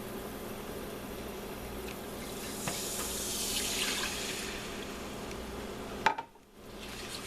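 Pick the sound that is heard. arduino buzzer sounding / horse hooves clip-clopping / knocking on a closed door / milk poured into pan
milk poured into pan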